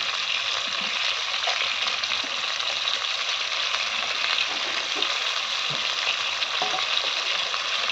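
Chopped onion and tomato frying in hot oil in a pan, a constant close crackling sizzle with small pops and faint stirring, no voices over it.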